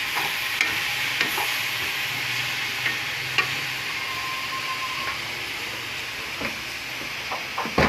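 Vegetables cooking in a home kitchen: a steady sizzle of frying with periodic clacks of a utensil stirring against the pan, close and moderately loud, with no talking.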